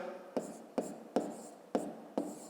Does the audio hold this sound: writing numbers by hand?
yes